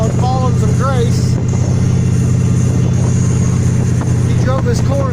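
Car driving south on Highway 11 near an old iron bridge in Rockford, a steady loud engine and road drone throughout, with a voice speaking over it.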